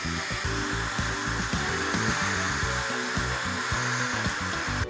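Hair dryer blowing hot air onto candle wax to melt a decorative picture: a loud, steady whirring drone, close and continuous throughout, with no talk.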